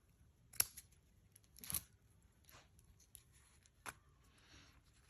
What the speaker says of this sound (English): So I'm going to trim a little bit off.